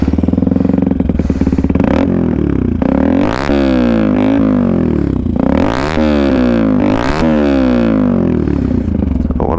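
Benelli TNT 125 motorcycle fitted with a Pipeworks aftermarket exhaust, revving loudly and close by in repeated rising bursts that drop back between throttle blips, with a raspy, crackling exhaust note.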